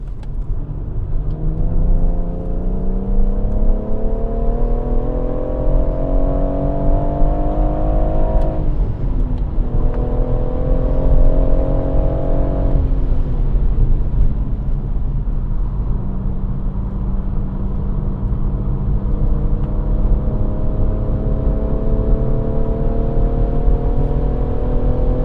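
A BMW M140i on the Goodwood circuit revs hard through the gears, its engine note rising in loud climbing sweeps with a sharp shift break, then easing into a steadier drone.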